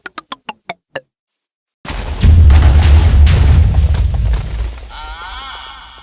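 In Minecraft, a quick series of six short ticking clicks from TNT, a brief silence, then a loud booming explosion that rumbles on and fades into crackling debris.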